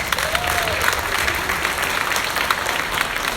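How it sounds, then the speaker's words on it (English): Continuous clapping from an audience at a youth legislative theatre event, even and sustained with a few voices faintly underneath. "Big round of applause,"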